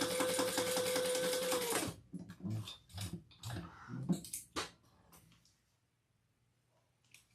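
A sewing machine stitches a seam in a steady, close whir for about two seconds, then stops, followed by soft handling clicks and fabric rustles.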